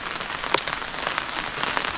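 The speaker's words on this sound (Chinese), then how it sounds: "这外面又在下雨" Rain falling outdoors at a wild campsite in Yunnan, a dense, steady patter of drops striking nearby surfaces, continuous and fairly loud, with no voices.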